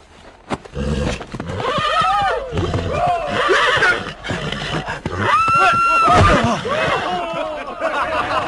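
Horses neigh and whinny repeatedly, loud and close, in a Chinese fantasy film, with snorts and some hoof clatter between the calls.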